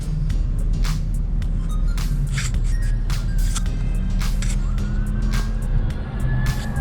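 Police cars and a fire truck arrive at an accident scene in the United States, their sirens wailing continuously at mid distance over heavy traffic rumble, with repeated sharp bursts punctuating the steady drone.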